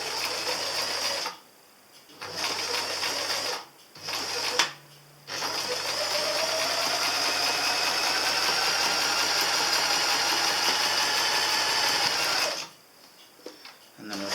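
Sewing machine stitching camper van curtain fabric up close, running in short bursts separated by pauses, then a long steady whirring run with a gear-like drone before stopping briefly and starting again.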